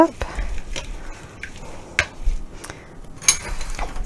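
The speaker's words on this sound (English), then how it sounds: "stir it all up." A spoon stirs seasoned rib marinade in a bowl, giving soft scraping and clinking taps at irregular intervals, close and moderately quiet.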